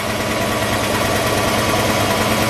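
A 1970 Ford Mustang Boss 302 engine idling nearby, a loud, steady, even rumble with no revving and no voices.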